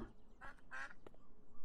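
Ducks quacking in the video game Beyond Eyes, a few short nasal quacks close together, moderately loud over a quiet ambient background.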